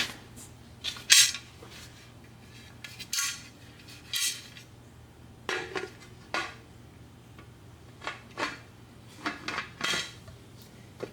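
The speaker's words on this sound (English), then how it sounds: "I'm going to get the lid on." Metal lid of a pressure canner for home-canned beans being fitted and turned into place, a series of close metallic clanks, scrapes and clinks spaced irregularly over a steady low hum.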